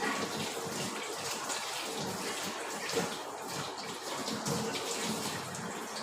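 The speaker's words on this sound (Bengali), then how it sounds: "আর কিছু বাসন আছে যেগুলো আমি গৌরীকে দিই না, যেগুলো আমি নিজেই মাঝে, আর সেইগুলোই এখন সকালবেলা রেখে মেজে নিচ্ছি" Dishes being scrubbed in the morning under a running tap give off a steady rush of water with faint clinks and splashes, heard alone throughout.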